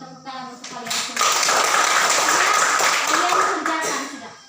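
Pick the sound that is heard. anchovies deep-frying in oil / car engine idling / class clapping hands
class clapping hands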